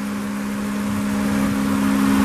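A 2015 Subaru Outback 2.5i Limited with its 2.5-liter horizontally opposed four-cylinder idles steadily, a smooth close hum that swells slightly louder toward the end, with no talking.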